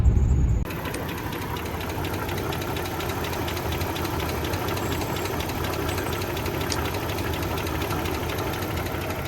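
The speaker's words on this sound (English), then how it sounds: "our warbling bearing noise definitely still there, but I will say it is noticeably different and not at all as loud as it was" A Mercedes E420 W124 V8 idles steadily nearby, a warbling bearing noise and light ticking blended into its even mechanical hum, with a brief louder thump at the very start.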